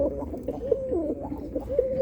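Birmingham Roller pigeons coo close by in a loft, repeated low rolling coos overlapping in a steady, soft stream against a faint background murmur.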